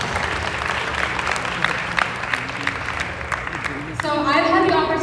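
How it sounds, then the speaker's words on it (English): Steady audience applause at a meet-and-greet honoring a women's advocate from rural Rajasthan, dense clapping filling the room until a voice starts talking over its tail. "So round of applause for that."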